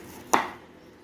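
Knife cutting through the stems of a bunch of fenugreek (methi) in a home kitchen, one crisp close chop on a board in an otherwise quiet space.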